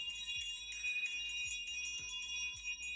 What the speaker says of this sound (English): Let me get my market bell noise.